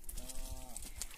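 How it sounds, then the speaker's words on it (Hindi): A cow at a hillside village home gives a short, low moo, faint and somewhat distant amid quiet outdoor background noise. "और ये प्रियांशु की गाय है"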